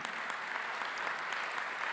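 Audience applause at a political speech by Sen. Jon Kyl, a steady wash of clapping from a crowd that holds evenly for the whole stretch without any voices.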